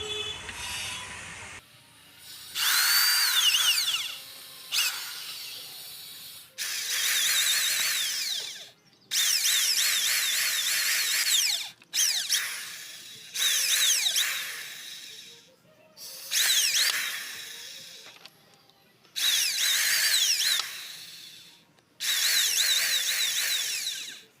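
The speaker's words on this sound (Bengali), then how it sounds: "পুরো মেশিন নিয়ে রেডি তো চলো এগুলোকে ফুটো করি একটা একটা করে" A handheld power drill bores a series of holes one after another, about eight loud whining bursts, each a few seconds long with brief pauses between, close up and with no talking.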